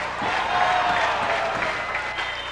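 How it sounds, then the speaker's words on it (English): Crowd applauding at an equestrian competition in Holland, steady clapping and some cheering filling an indoor arena. "Inside, she will be showered with a rain of applause."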